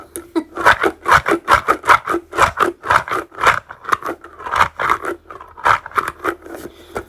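A giant crunchy sand-filled ASMR stress ball squeezed repeatedly up close, giving a rapid series of loud gritty crunches and scrapes in an uneven rhythm, with no talking.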